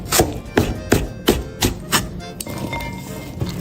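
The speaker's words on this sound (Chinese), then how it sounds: "再切点韭菜、" A knife chops garlic chives on a cutting board in a kitchen, giving about eight steady, evenly spaced thunks close by, then a softer, busier patch of cutting noise.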